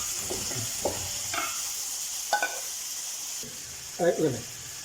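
Tomato and capsicum sautéing in a pan while preparing chicken madhruba, a steady background sizzle broken by a few short scraping stirs of a spoon against the pan, the loudest near the end.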